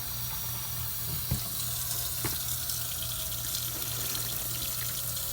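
Water pours steadily into a folding washing machine, a constant broadband rush with a couple of faint knocks, no talking.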